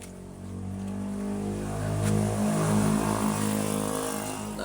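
A Mitsubishi Pajero Sport with a neglected, overheating 2.8 litre 4M40 diesel engine hums close by, rising into a moderate rev midway before settling back, with no talking over it.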